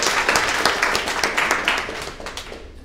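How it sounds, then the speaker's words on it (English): A conference audience at a documentation event in London gives a short round of applause, with many hands clapping close by and the sound fading out after about three seconds. "Let's do an applause"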